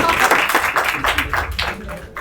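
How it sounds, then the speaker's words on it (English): Students in a lecture hall clapping, a loose patter of claps from a small group, fairly close and uneven in rhythm, with a voice speaking over part of it. "You people please clap for everybody."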